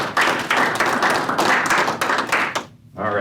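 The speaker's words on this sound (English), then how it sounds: "Give him a round of applause." A seated audience claps after a talk, a steady burst of applause lasting about two and a half seconds before it quickly dies away.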